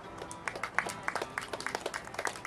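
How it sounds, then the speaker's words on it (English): A festival audience claps after a sing-along at an outdoor water festival, the claps sparse and distinct rather than a roar, fairly faint and uneven in rhythm, heard without voices. "Give yourselves a big round of applause."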